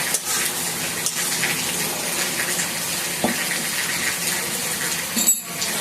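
An electric mixer grinder grinds poppy seed paste without water, giving a loud, steady whirring roar that runs the whole time, with a brief harsher burst near the end.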